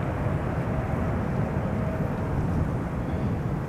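A 12-year-old KLM Boeing 777-300, registration PH-BVI, departs Amsterdam Schiphol as flight 565 to Nairobi, its engines a loud, steady, broadband jet roar that holds without a break.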